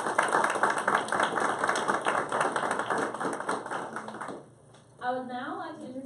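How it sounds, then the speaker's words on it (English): Audience at an elementary school spelling bee gives a round of applause, steady dense clapping for about four seconds before it dies away and a voice begins speaking. "Please join me in a round of applause for our participants"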